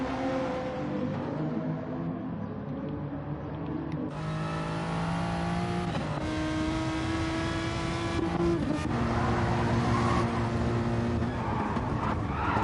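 Race cars in Gran Turismo Sport at a world championship event on the Sardegna circuit, engines droning and shifting pitch as they rev through gears, tyres skidding briefly, steady and fairly close throughout.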